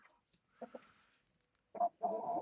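Chickens, hens and roosters, cluck in a few short, close calls, with two quick clucks early on and a louder, longer bout of clucking at the end.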